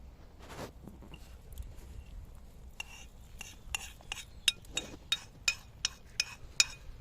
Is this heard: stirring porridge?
yes